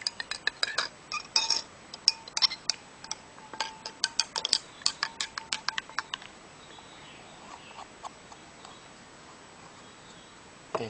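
Ink-stained detergent water is stirred in a container, giving a quick series of faint, sharp clinks and taps that grow sparse and fade to quiet hiss after a few seconds.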